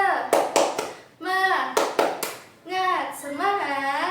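Schoolchildren in an Indonesian fourth-grade class chant 'tepuk semangat' with a teacher, their voices mixed with sharp rhythmic hand claps in short bursts, close and fairly loud.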